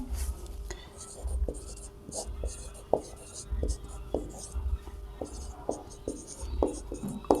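Pen writing out a maths equation for a class 12 differential equations lesson, with soft repeated scratching strokes at a steady rhythm, close and fairly faint, over a low background hum.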